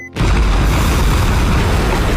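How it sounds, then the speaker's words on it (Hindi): In the 2024 Anaconda film, a remote-detonated bomb blows up shipping containers near a boat: a sudden, very loud, close blast that erupts abruptly and rolls on as a sustained roaring rumble. "उन्होंने तुरंत कंटेनरों पर बम लगाया और रिमोट दबाते ही जोरदार धमाका हो गया।"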